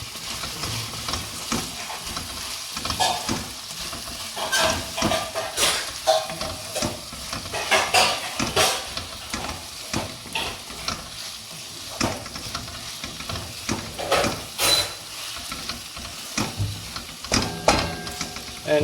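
Okra (bhindi) sabji sizzling steadily in a hot pan, with repeated scraping stir strokes cutting through the frying noise at an uneven rhythm, close and moderately loud, no talking.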